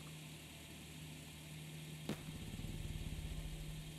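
Armored car engine in the survival game Night of the Dead, a low steady idle that picks up after a sharp knock into a faster rhythmic putter, fairly quiet and with no speech.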